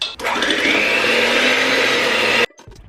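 An electric mixer whips cream for a no-bake peanut butter pie, a loud, steady motor whine running for over two seconds before cutting off abruptly.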